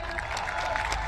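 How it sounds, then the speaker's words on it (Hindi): An audience at a company event claps briefly, a burst of applause with a murmur of crowd under it. "राजेश यादव सर के लिए जोरदार तालियां।"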